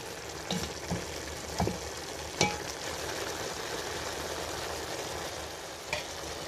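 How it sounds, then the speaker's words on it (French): Gumbo sauce with salt gently frying over low heat in a pan, a steady soft sizzle carrying on throughout with a few brief scrapes and clicks as it is stirred, close and alone. "Et je vais faire revenir pendant 5 minutes à feu doux."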